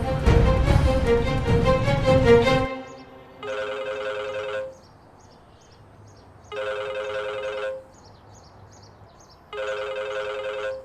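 A telephone rings in a dubbed Turkish drama scene, three separate electronic ring bursts about a second long each with quiet pauses between, after a louder stretch of music at the start.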